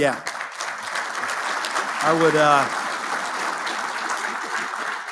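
Sustained applause from a room full of people at a Marine Corps awards dinner, steady clapping with a voice speaking briefly over it midway.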